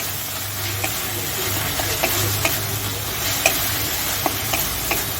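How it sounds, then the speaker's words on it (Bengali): Ginger-garlic paste being stirred in a hot frying pan: a continuous sizzle broken by regular scraping strokes of the spoon about twice a second, close up and with no voices. "আদা রসুন বাটা দিয়ে ভালো করে নাড়তে হবে।"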